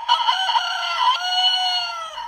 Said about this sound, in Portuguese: ela tá chegando! É a galinha!